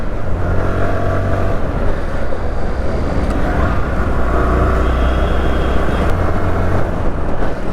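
A Bajaj Platina 110 ABS motorcycle fitted with a catalytic converter runs steadily while being ridden, its loud, even engine drone and rumble continuing without a break and with no talking.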